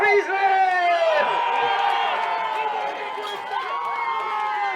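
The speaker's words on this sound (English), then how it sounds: "let's have one big more cheer for New South Wales" A large outdoor crowd cheers, whoops and hollers continuously for New South Wales before a senior men's football final, a dense sustained roar of many voices that swells at the start and again near the end.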